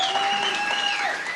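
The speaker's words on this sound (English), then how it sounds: "Go ahead and give yourself a round of applause." A small studio audience at a radio-station music taping claps in a brief, close burst with a thin sustained whistle-like tone riding over the applause.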